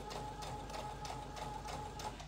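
A sewing machine stitches a seam steadily up to a marked point, its needle clattering in a fast, even rhythm with a constant motor hum, close and fairly quiet.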